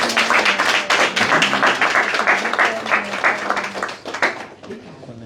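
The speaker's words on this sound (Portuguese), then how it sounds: "Uma forte salva de palmas para o Dr. Dinis." An audience claps for a speaker at a book launch, crisp individual claps forming uneven applause that gradually thins and fades toward the end.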